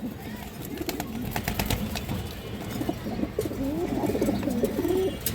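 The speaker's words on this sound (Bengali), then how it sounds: "দর্শক ইন্ডিয়ান হাইফ্লার কালদম নোয়ার কৌতার" An Indian high flyer Kaldom pigeon coos in soft, rolling, throaty notes that grow clearer toward the end, set against a busy rustling, murmuring background of other birds.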